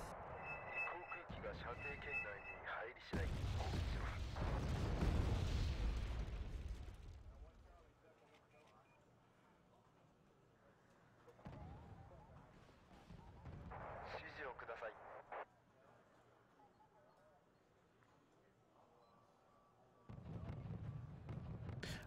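Artillery bombardment in the Wargame Red Dragon video game: heavy booming salvos roll and rumble in loud bursts, ease off into quieter gaps, then strike again near the end.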